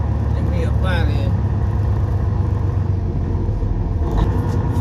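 Low, steady truck engine rumble while backing up to a trailer, loud and continuous throughout, with someone talking over it.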